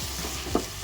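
Quick stir of chilli powder and coriander powder into a capsicum curry with almonds and cashews, a short soft scrape with a faint sizzle and one small clink of the spoon against the pan.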